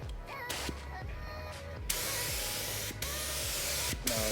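A spray gun lays a primer coat on a Honda Integra in loud, close hissing bursts, a short spray, a pause, then a long sustained blast broken by brief stops.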